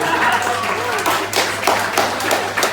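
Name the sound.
audience applause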